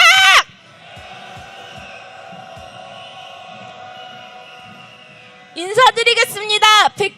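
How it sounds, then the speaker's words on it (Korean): A protest crowd at a Yeouido candlelight march calling for the president's impeachment roars and shouts together, a sustained distant swell between bursts of close amplified speech at the start and end. "윤석열 탄핵의 함성 시작!"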